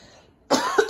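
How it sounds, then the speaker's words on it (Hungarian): A single loud, close cough, with a short burst and a second catch, after a moment of near silence. "ez már köhögés volt"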